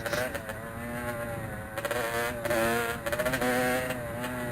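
A trail motorcycle held up on its back wheel in a wheelie while climbing, its engine droning steadily with a few quick throttle blips and revs, close and continuous.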